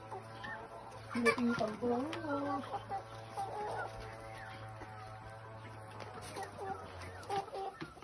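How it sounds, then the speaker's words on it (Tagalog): Hens and roosters cluck and chatter nearby in short, irregular bursts, while people talk softly over a steady low hum. "Mas marami inahin ano kaysa tandang."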